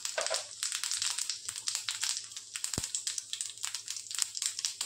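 Cumin seeds, added after mustard seeds, crackle and sizzle in about two spoons of hot oil in a kadhai on a gas stove, a dense steady spitting with sharp pops, close and alone.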